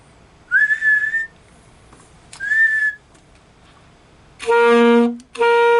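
Several sustained whistled tones, then a steady tuning note with strong harmonics held twice near the end, close and clear with no talking.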